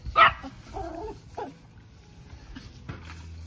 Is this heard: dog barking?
yes